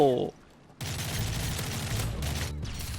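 Bursts of Striker shotgun fire in Call of Duty: Modern Warfare, loud blasts after a brief gap, with someone talking over the gunfire.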